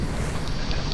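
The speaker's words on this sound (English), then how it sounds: "So the wind is still gusting sort of 22, 25 knots." Strong wind gusting at 22 to 25 knots around a Sun Odyssey 410 sailboat in a squall at sea, a continuous rough roar with buffeting microphone wind noise, close and steady, no speech.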